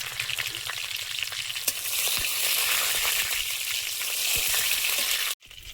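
Five-spice seeds and a bay leaf fry in hot oil in a kadai as shukto is started, a loud continuous close sizzle with a few stirring clicks, cutting off abruptly near the end.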